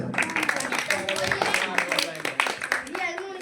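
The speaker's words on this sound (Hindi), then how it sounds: "ठीक है, शाबाश, जोरदार तालियां।" Students at a coaching and computer centre get a round of clapping, a dense crowd of hands running steadily throughout with voices mixed in underneath.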